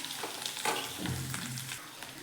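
Egg curry masala with sliced vegetables sizzles and crackles in hot oil in a kadhai, giving a steady close frying hiss with soft stirring sounds and no talking.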